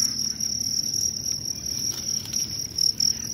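Crickets chirp steadily inside a closed scorpion-farm enclosure, a dense, continuous high trill that stays loud and close throughout with no voices.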